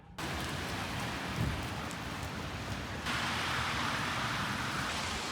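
Steady rain in Oslo, Norway, on a near-freezing day, a dense, even hiss of drops on surfaces that continues without a break and grows slightly brighter partway through.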